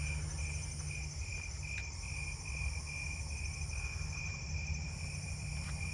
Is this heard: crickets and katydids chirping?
yes